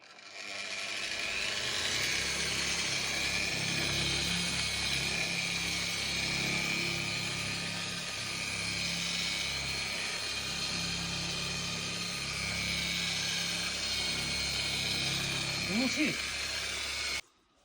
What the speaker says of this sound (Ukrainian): на мінімальних обертах шліфуємо до трьох хвилин